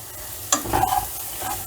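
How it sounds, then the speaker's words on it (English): Chilies, ginger, French beans and carrot sauté in a hot pan, giving a close, steady sizzle with a spatula scraping and stirring through the vegetables in one brief burst. "French beans and carrot also I am adding at the same time, and saute these well again"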